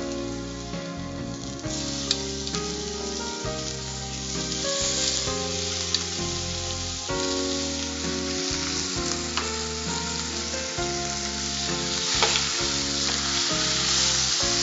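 Chicken pieces fry in oil with softened onions in a pan, a steady close hiss of sizzling with occasional stirring clatter, no talk.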